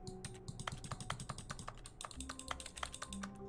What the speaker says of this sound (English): I'm just making miscellaneous clicking noises